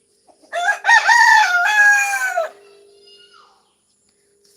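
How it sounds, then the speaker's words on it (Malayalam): A rooster crows once, loud and near, a long drawn-out call that rises and then holds before cutting off, followed by quiet. "ഒരു സ്വൈര്യം തരുന്നില്ല കണ്ടോ കൂവി നാട്ടുകാരൊക്കെ അറിയിക്കാൻ തോന്നുന്നുണ്ട്"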